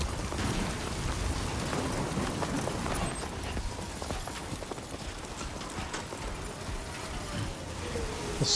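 Storm rain with thunder in the video game Death Stranding 2, set in Mexico: a constant hissing downpour with low rumbling underneath, fairly loud and unbroken, with no voices.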